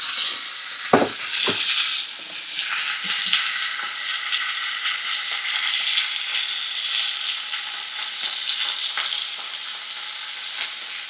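Steak frying in an oiled non-stick pan, a loud close sizzle with crackling spatter, interrupted by a few thumps and a brief dip as the meat is tossed.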